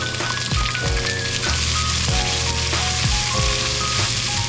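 Onion and curry leaves hit a hot pan and fry with a loud, dense crackling sizzle, steady throughout with scattered pops and occasional clinks of utensils.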